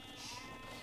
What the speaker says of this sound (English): We got geese and sheep in the mill.